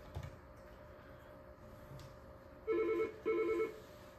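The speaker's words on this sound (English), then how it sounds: "Next will be when a call comes in, how to answer it." A Yealink T53 desk phone rings for an incoming call, two short electronic trilling bursts close by, separated by a brief gap, after faint background clicks.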